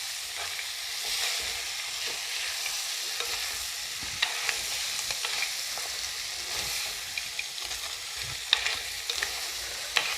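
Crab fries in a pan for a Kerala crab mappas while being stirred, a continuous close sizzle with frequent scraping and clicking stirs throughout and no talk.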